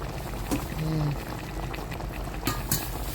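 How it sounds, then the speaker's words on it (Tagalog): Pork broth for binagoongang baboy bubbles and simmers steadily in a pot at close range, with faint clinks and a voice speaking over it. "kumukulo na siya"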